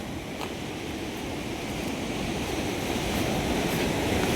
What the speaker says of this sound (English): Now it feels like I've come to the beach.